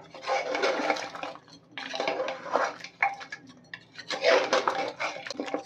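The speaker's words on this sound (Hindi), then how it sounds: "थोड़ा सा और पानी हम इसमें ऐड कर देंगे," Hot water poured into a pot of goat head paya curry, in several close bursts of splashing and pouring mixed with the clatter of metal cookware.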